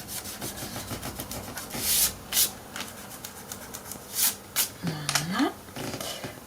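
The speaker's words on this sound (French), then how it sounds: "je vais gommer, même si on va cacher après" Pencil marks being rubbed out with an eraser on paper during scrapbook album page making, a soft, quiet scratchy rubbing in short bursts, with brief speech and a rising vocal sound near the end.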